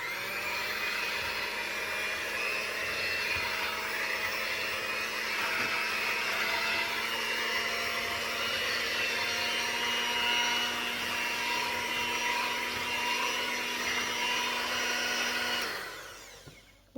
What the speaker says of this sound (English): we're going to mix this for 1 to 2 minutes till it starts to get thick